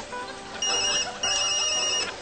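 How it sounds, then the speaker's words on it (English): A telephone bell rings in short bursts, fairly loud and close, sounding alone. "my phone's been ringing off the hook"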